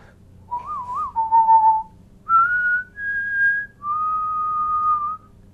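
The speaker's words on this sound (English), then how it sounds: "I can't help but whistle." A person whistles the theme from The Good, the Bad and the Ugly alone: a clear melody of a warbling opening note, a dip, then several long sustained higher tones separated by short pauses.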